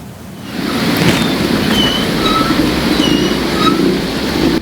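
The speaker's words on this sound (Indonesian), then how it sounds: "Air sungai meluap hingga menutup jembatan, mengakibatkan kemacetan panjang." The flooded Waridin River in Kendal, Central Java, overflowing a bridge on the Pantura road: a loud, steady roar of rushing water mixed with wind buffeting, with a few faint high tones in the distance.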